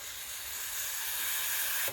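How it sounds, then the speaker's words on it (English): Steam wand of a Breville Oracle Touch BES990 espresso machine purging with a steady, loud hiss that stays even for about two seconds and then cuts off abruptly, with no voices. "so just to get all the steam, all the old water on the inside out of the steam wand"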